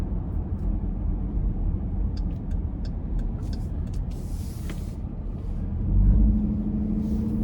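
A 2024 Dodge Durango R/T with a 5.7 V8 and an 8-speed automatic on aftermarket wheels cruises down the road, a low steady engine and road rumble inside the cabin, swelling briefly near the end.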